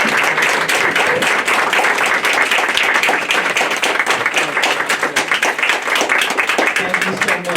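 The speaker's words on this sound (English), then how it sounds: "we give her a round of applause" Loud, dense applause from an audience at a Gullah Geechee cultural arts showcase, sustained clapping close and continuous throughout with crowd murmur mixed in.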